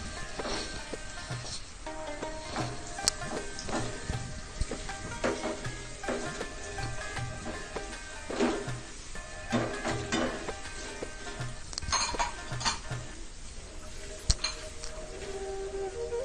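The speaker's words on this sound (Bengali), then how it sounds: "এরপর মিক্স করতেছি রেড ক্যাপসিকাম।" Red capsicum is stir-fried and tossed with veg noodles in a pan, giving a steady sizzle and frying hiss broken by repeated scraping and stirring clatter, close and fairly quiet, with no talking.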